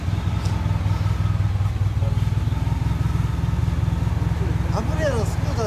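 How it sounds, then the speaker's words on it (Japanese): Aprilia scooter engine idling nearby with a steady low rhythmic throb and faint mechanical clatter, with brief chirpy sounds near the end over the running motor. "アプリアのスクーターですよ"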